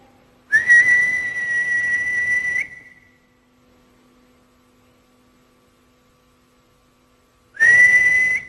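Two steady whistled tones in the disused Aldwych tube station, one long and one brief after a pause, clear and sustained over a quiet electrical hum.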